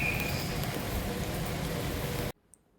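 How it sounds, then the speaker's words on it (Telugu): Morning rain pouring steadily onto an outdoor setting, a dense even hiss that stops abruptly near the end, leaving near silence. "మార్నింగే వర్షం పడుతూ"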